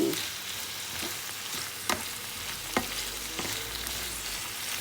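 Macaroni being stir-fried in a pan at home, giving a steady close sizzle with occasional scraping clicks of a utensil against the pan, no voices.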